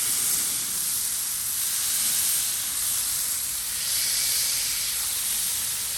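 Smash burger patties sizzling on a hot griddle, a steady bright hiss that swells and fades slightly, alone with no talk.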